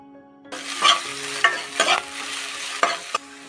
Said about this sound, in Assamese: আৰু পিঁয়াজখিনি 2 মিনিট সময় ভাজি ল'ম